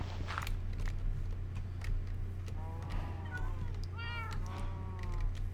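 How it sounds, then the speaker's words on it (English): Cats in the Minecraft video game give several short, close meows near the end, over a steady low droning background, with faint footstep-like clicks earlier. "Let's get 2 of these kitties."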